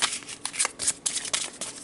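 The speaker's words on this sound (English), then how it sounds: "So let's shuffle the cards" Tarot cards riffled and shuffled by hand in a quick run of crisp, papery flutters and soft slaps, close and fairly quiet, with no talking.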